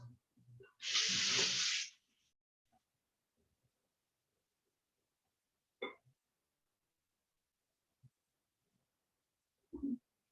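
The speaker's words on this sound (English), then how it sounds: "so we will fill our pan with the water." Tap water gushes into a cooking pan for about a second, a loud brief splashing burst, followed by quiet kitchen handling with a few faint knocks and clinks.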